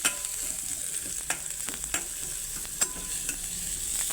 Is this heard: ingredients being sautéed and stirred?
yes